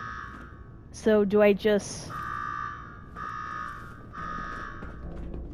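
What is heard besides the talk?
alarm ringing in Fallout 4 video game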